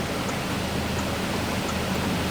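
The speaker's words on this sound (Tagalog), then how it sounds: "lakas ng ulan" Heavy rain pours steadily in a rural rice-farming area, a dense, even roar with no breaks and no voices.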